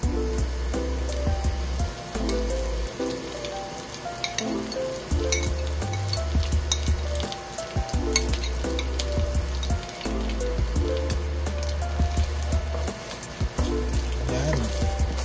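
Salted egg yolk pasta sauce frying in a pan, a steady close sizzle with occasional stirring and utensil clinks, no voices over it.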